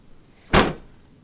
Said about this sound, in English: And close this door.